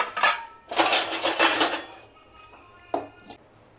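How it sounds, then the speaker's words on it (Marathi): A steel kadhai and other pots and pans are scrubbed and washed in a home kitchen, giving bursts of close scraping and rattling metal followed by a few sharp clanks as pieces are set down. "त्याला आता मला कढई वगैरे लागेल भाजीसाठी, म्हणून ते थोडेसे भांडे मी घासून घेते."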